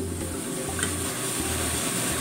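A mixture of soy sauce, vinegar, sake and sugar heating in a pot toward a boil, giving a faint, steady bubbling sizzle with a low hum, and no talk.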